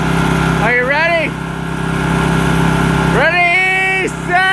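Two identical lawn mowers idle side by side with a steady droning engine hum, while loud voices with rising, shouting tones break in over it twice.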